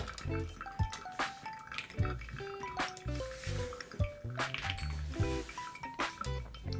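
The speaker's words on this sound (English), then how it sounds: "We're gonna be pouring until 300 grams here." Water is poured from a kettle over ground coffee for a pour-over brew, steady liquid trickling and splashing with faint clinks of glassware, quiet and close, over soft background music.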